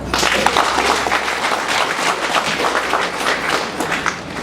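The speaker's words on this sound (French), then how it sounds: "Ça là, on leur dit merci et il faut acclamer." A crowd at a march in Atacora, Benin, claps and cheers loudly and continuously in a dense, sustained wave of applause with no pauses.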